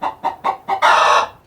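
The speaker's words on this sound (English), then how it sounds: "This is a chicken." A chicken clucks four times in a quick, even rhythm, then lets out a longer, louder drawn-out squawk; close, loud and alone with no talk.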